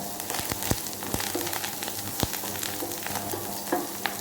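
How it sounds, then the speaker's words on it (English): Spices and curry leaves crackle and pop in hot oil, irregular sharp snaps over a constant soft sizzle, close by and fairly quiet. "You hear the breaking of the spices"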